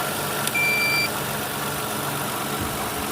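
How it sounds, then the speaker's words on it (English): A 2008 Toyota Sienna minivan engine idles with a steady, even hum, and a short electronic beep tone sounds near the start. "Okay, so I start the engine."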